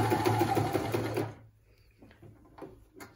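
An AEG Multi Function NM 510 sewing machine runs for about a second and a half, a steady rhythmic stitching whir, up close, then stops, leaving faint handling clicks and quiet shuffling.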